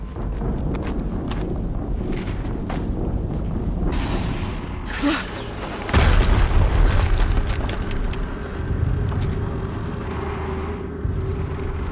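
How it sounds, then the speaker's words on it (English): An explosion goes off in the video game Horizon Zero Dawn, a sudden loud broadband blast midway through that rises out of a steady backdrop of game ambience and footstep-like shuffling. "Explosion."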